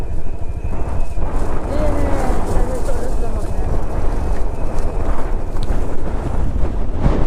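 Strong wind buffets the microphone at a high camp spot, a loud, continuous rumbling roar with gusty surges throughout.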